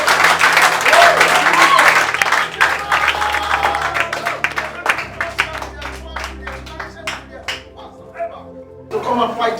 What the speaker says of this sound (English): Somebody clapping in the church